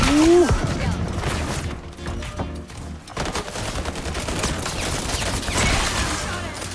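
Heavy gunfire rattles through a round of the online shooter Highguard during a bomb defense, dense overlapping shots and impacts running nearly nonstop at close range, loud throughout, with occasional voices under the firing.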